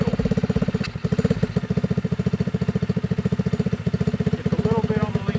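A Honda Trail 70 fitted with a swapped-in 125cc four-speed engine, running slightly lean, idles close by with a steady, fast, chugging putter and a brief clack partway through.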